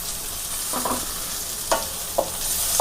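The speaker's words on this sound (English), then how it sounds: "We have to fry nicely." Chopped tomato fries in a pan for egg fried rice, giving a steady soft sizzle with a few scattered clinks and scrapes of a stirring spoon.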